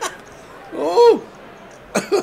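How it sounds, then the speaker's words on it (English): A person clears their throat twice in a short, close burst, with a second quick rasp after a pause, against a quiet indoor background during a poker tournament broadcast. "I'm just clearing my throat"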